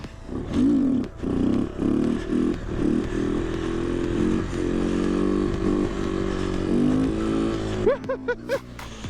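A Kawasaki Z125 small motorcycle revs hard in snow while popping a wheelie, its engine surging and bogging in repeated bursts, close and loud, with brief excited voices near the end.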